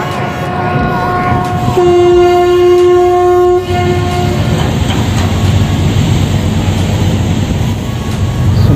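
A RoRo ferry pulls away from Bhaucha Dhakka in Mumbai, bound for Alibag. A loud, sustained deep horn blast sounds close by, then gives way to a steady broad rumble of engine and wind.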